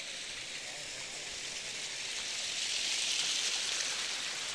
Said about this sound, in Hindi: यहाँ पे पत्थर से पानी निकल रहा है